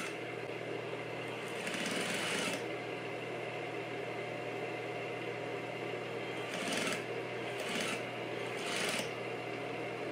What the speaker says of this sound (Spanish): Vamos a coser con atraque.